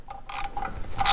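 A ratchet turns the last thermostat housing bolt on a Jeep Liberty CRD with a quick run of close, crisp clicks lasting about a second.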